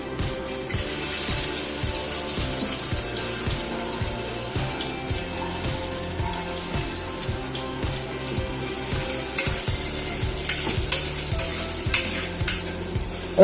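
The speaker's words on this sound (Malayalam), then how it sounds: "സവാള ഒരു ഒന്നര സവാള നമ്മൾ കട്ട് ചെയ്തിട്ടുണ്ട് അത് നമ്മുടെ ഈ എണ്ണയ്ക്കകത്ത് കൊണ്ട് വഴറ്റി കൊടുക്കും" Sliced onions, about one and a half, sautéing in oil in a pressure cooker for chicken biryani, with a steady broadband hiss and sizzle and repeated scraping stirs at close range, no talk.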